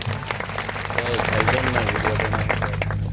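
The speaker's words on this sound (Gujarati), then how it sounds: "બધા માટે એકવાર જોરદાર આપણે તાળીઓ પાડી લઈશું." A crowd at a political rally applauds, a steady wash of clapping that runs through the whole moment. A voice on a loudspeaker comes through faintly underneath.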